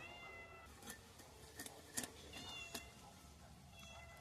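Several short meows from a cat close by in a home kitchen while a large rohu fish is being cut nearby, the calls spaced across a few seconds over faint room clatter.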